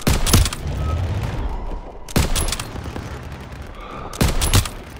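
Gunfire in the World War II shooter game Call of Duty: WWII, three loud bursts of rifle and machine-gun fire spaced about two seconds apart, with a noisy battlefield din between them.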